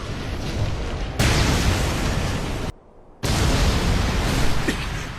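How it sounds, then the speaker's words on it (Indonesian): Buildings in an anime city blow up in a continuous roaring blast, loud and close, cutting out to near silence for a moment before the rumbling explosion resumes. "Namun tiba-tiba saja beberapa gedung di kota tersebut meledak."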